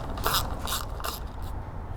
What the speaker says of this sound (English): Just take these 2 bolts off.